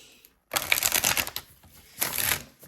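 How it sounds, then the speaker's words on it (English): Tarot cards shuffled by hand in two busy bursts of dense riffling and flicking, close and fairly loud, with a short quiet gap between, no talking. "I'm going to pull you some cards specifically for this dream"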